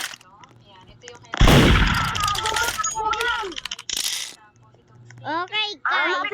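Gunfire in a video game lands as a loud sudden blast that trails into rattling shots, mixed with excited children's chatter and shouting.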